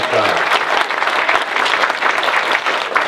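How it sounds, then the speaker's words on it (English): Audience applause for a band at a dinner program, a dense, steady wash of many hands clapping close by, holding evenly throughout. "Give them another round of applause."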